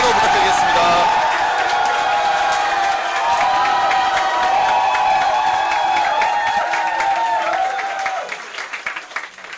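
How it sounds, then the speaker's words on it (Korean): An audience at an indoor political youth committee launch event cheers and applauds loudly, dense clapping mixed with shouts and whoops, sustained for about eight seconds before thinning into scattered claps. "한 번 더 큰 환호 부탁드리겠습니다"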